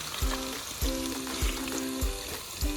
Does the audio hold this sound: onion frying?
yes